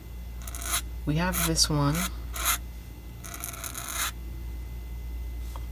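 A metal dip pen nib scratches across paper while inking, giving short raspy strokes in separate bursts and one longer scrape, with a brief spoken voice between them.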